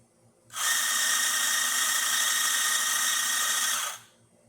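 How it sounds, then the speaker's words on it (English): A Quamar M80 coffee grinder grinds coffee beans in one loud, steady burst lasting about three and a half seconds, with a sharp start and stop and quiet before and after. "let me just do it, grind more"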